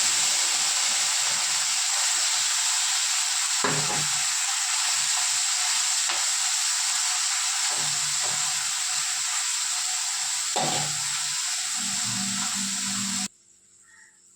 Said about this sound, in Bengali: পুঁটি মাছ আর খলসে মাছ আছে,